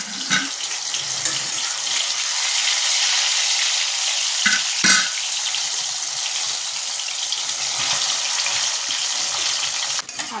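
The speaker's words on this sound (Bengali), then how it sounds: "পটল ভাজা করছি।" Potato and pointed gourd slices fry in a pan with a loud, continuous sizzle and crackle, broken by a few sharp clinks of a utensil against the pan.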